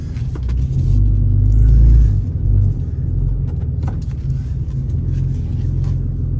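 A 2016 Ram pickup truck rolls out of a garage, its engine rumbling steadily and swelling briefly as it pulls away, with a low continuous drone throughout.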